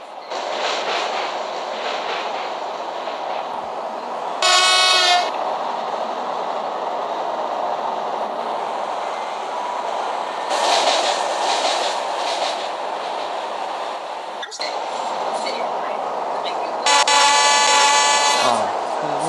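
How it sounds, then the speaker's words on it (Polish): A steam locomotive whistle in the Euro Train Sim 2 video game sounds three times in long, loud, tonal blasts over a steady rumbling train, while someone talks throughout. "że się trąbi jak ta lokomotywa."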